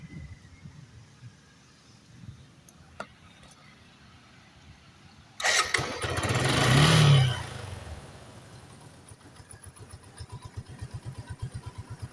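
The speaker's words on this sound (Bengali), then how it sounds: "আমি আপনাদের একটু সাউন্ড কোয়ালিটিটা এখন একটু শোনাই, তাহলে আপনারা বুঝতে পারবেন এখন বাইকের সাউন্ডটা কেমন আছে।" A Suzuki Gixxer Monotone motorcycle engine after a year of use: quiet idle, then a loud rev swelling for a couple of seconds before settling into a steady, rhythmic single-cylinder idle thump, close by.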